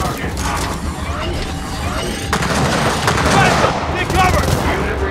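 Sniper and automatic gunfire crackles in Gears of War 4 as dense, overlapping loud shots with mechanical clatter fill the battle, mixed with shouted voices throughout.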